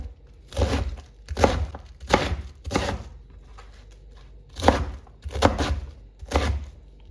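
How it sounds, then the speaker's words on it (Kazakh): A knife cuts young cabbage into squares on a board: about seven solid, close chops in loose pairs, separated by short pauses. "Осылай 4 бұрышты қылып кесеміз."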